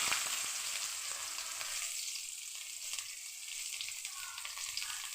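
Onion fries in a pan of hot oil, a steady loud hiss with faint scraping stirs, heard alone and close throughout.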